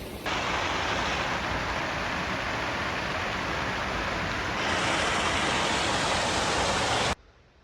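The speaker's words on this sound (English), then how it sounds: "Waterfall." O Kun De Kun Falls pours as a dense, steady broadband rush of falling water, loud and close, holding constant for about seven seconds before cutting off abruptly, with no voices.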